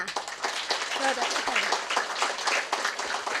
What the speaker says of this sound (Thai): ขอพลังเสียงปรบมือดัง ๆ ให้คุณ สิรินันฮาลูนค่ะ